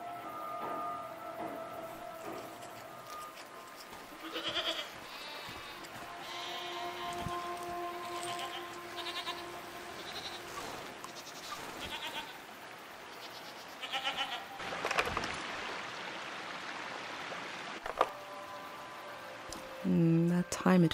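Faint goat bleats from the video game Season: A Letter to the Future on PS5 sound now and then over low background noise, with a louder bleat near the end.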